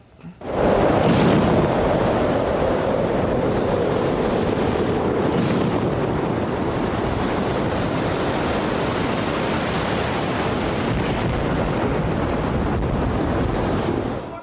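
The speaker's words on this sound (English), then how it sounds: "Images of a river gone wild." The flooded Ganga in West Bengal's Dakshin Malda rushes in a loud, continuous roar of churning water and wind, steady and unbroken from start to finish with no voices.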